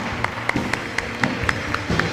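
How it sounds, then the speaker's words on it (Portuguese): A church congregation claps along in a steady, evenly spaced beat, roughly four claps a second, with murmuring voices underneath. "Levante as suas mãos aos céus e dê um louvor de palmas ao Senhor."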